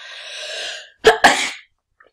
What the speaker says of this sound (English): Gonna sneeze. Just don't be scared.